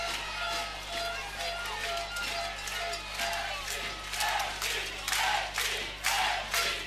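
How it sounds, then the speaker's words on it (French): A rugby stadium crowd of Saint-Giron fans cheering at a semi-final, a broad distant roar swelling in waves under steady background hum, with a commentator's voice over it. "public de Saint-Giron qui s'est réveillé"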